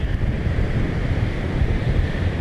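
Strong wind of about 15 to 20 mph buffets the microphone on a choppy beach, a steady loud roar of wind and surf with no voices.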